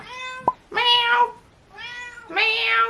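Domestic cat meowing loudly and close by, with two long, drawn-out meows separated by a short pause, plus a brief click before the first, and no talk.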